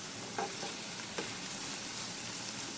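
Onions and chopped chillies fry in a pan with a soft, steady hiss of oil. A couple of faint clicks from a utensil sound against the pan, and there is no talking.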